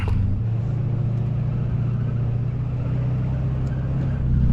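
A truck drives through the Baja desert with a steady, loud engine drone and low rumble, continuous throughout with no talk.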